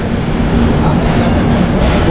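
The Falaknuma Superfast Express runs at speed, a loud steady rumble and roar from on board, with no breaks across the whole stretch.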